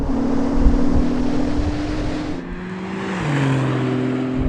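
A Porsche 911 Turbo S 992 in automatic mode floors it from about 50 mph on a runway, producing a loud, steady engine drone with wind rush and a pitch that dips once partway through.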